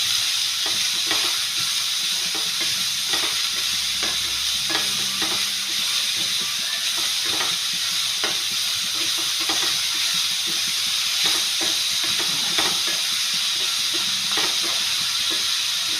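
Shredded cabbage for a Kerala-style thoran hisses steadily in a hot pan as it is stirred. Scattered clicks and scrapes of the spoon sound close over the continuous sizzle.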